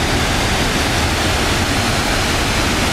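Roaring spray from an Icelandic waterfall beating against a camera lens, a loud, steady broadband rush of water with no break and no voices.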